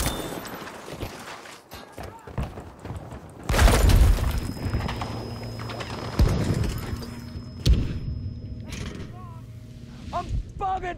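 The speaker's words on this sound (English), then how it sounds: "Smoke grenade from us!" A smoke grenade in the Battlefield 5 video game lands with a heavy thud and a hissing burst amid battlefield noise, followed by further booms and clanks, with voices shouting over the action.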